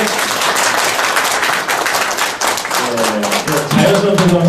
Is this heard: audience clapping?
yes